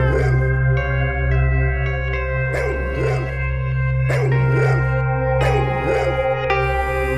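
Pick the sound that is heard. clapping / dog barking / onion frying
dog barking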